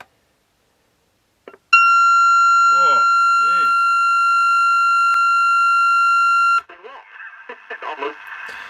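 A loud, harsh electronic alarm buzzer from a Copal RD316 electronic clock radio blares in one steady tone for about five seconds, then cuts off abruptly as voices speak nearby.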